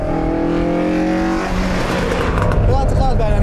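Ford Escort Mexico rally car, a replica built for the 1995 London–Mexico rally rerun, heard from inside as its loud engine drones and rises through revs, a shift in pitch midway, with a voice under the noise.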